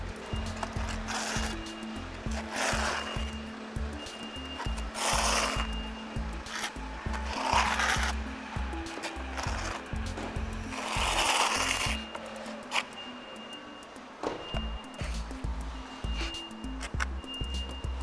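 A notched trowel spreads Kerakoll H40 Gel tile adhesive: repeated close scraping, gritty strokes come in slow sweeps with pauses between them, and a faint low hum runs in the background.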